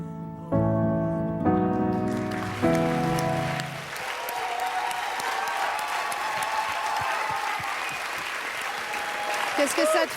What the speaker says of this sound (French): qu'il y ait des gens qui m'applaudissent